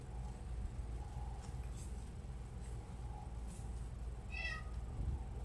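A house cat wanting to go outside gives a single short meow near the end, faint against a steady background hum and rumble, with no talking.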